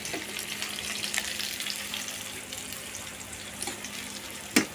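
Onion frying in a little oil for a boiled fish curry gives a steady, quiet sizzle throughout, with a few soft stirring scrapes and a louder clatter right at the end.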